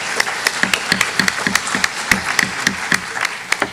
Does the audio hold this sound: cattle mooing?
no